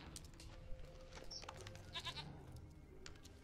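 A goat bleats a few short times in The Witcher video game, faint calls over a low, steady ambient game soundscape with no talking.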